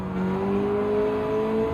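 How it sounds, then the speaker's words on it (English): A rotary-engined car revs loud and sustained in Gran Turismo 7, its engine note holding a steady, slowly rising pitch close up with no talk over it. "you can hear that rotary engine really loud"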